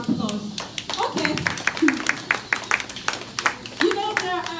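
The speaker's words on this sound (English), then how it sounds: "Please, let us give them a round of applause." Guests at a Nigerian wedding clap in a brisk, rhythmic stream of sharp hand claps that rise into brief applause, with people talking and calling out over the clapping throughout.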